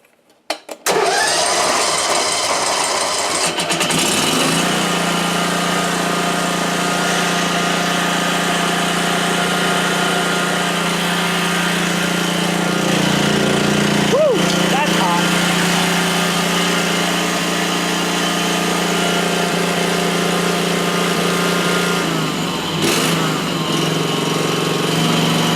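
A DR field and brush mower engine starts after a few seconds of cranking and settles into a steady, loud, close running drone that holds for the rest of the stretch, with a brief rise in pitch near the middle.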